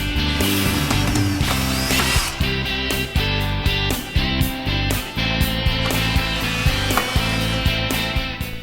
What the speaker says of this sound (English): Make sure to tighten down all three of these set screws.